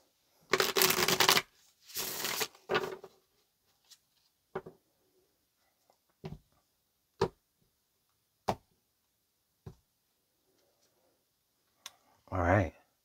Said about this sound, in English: Let's get this last shuffle in.